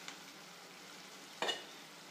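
Chicken liver fries in a pan with a faint, even sizzle, broken by two brief stirring scrapes, one soft at the start and one louder partway through.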